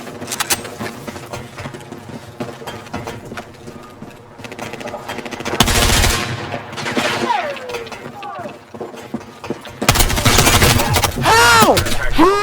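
Gunfire in the video game Battlefield 6 comes as rapid bursts and fusillades over a busy battlefield din, loudest in two heavy volleys near the middle and end.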